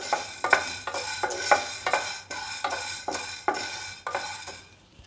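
Black peppercorns, a quarter cup, dry-roasted for rasam powder in a pan at home and stirred in steady repeated scrapes and rattles with a light sizzle, close and alone.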